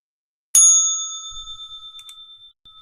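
A single bright bell strike rings out suddenly from silence, its clear metallic tone sustaining and slowly fading with a gentle wavering shimmer over a couple of seconds.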